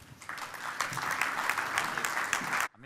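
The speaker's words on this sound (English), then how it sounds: "So please, a round of applause for Andrew." Audience applause at a business talk, a burst of close, lively clapping lasting over two seconds before it stops and a speaker's voice begins.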